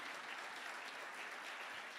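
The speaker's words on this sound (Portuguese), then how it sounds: "dá uma salva de palmas ao Senhor Jesus aí" A church congregation claps steadily in praise of Jesus, a dense, continuous roar of many hands at moderate distance, with no voices rising above it.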